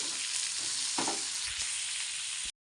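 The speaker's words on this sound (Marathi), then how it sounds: "हे पहिलं मसाला मस्तपैकी परतून वगैरे घेते भाजून घेते" Spices with plenty of cumin roasting in a pan make a dense, steady sizzle with a soft scrape of stirring near the middle, close up and unbroken until an abrupt cut at the end.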